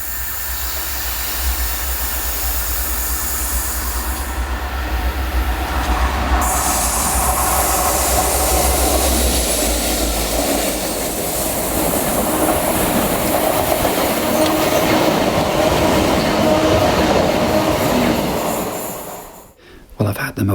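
A train rumbles and clatters along the rails at close range around 1 a.m., wheels squealing as it slows approaching St Germans Station in Cornwall, with voices faintly audible before an abrupt cut.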